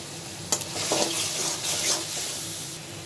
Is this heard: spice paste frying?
yes